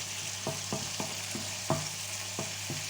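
Lardons browning in a pan for tartiflette, a soft steady sizzle broken by several sharp scraping stirs of a utensil against the pan, fairly quiet and without voices.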